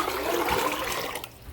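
Water pours steadily into a pot of soaked dried beans on the stove, a continuous splashing trickle that stays fairly even for a second and a half before thinning at the end.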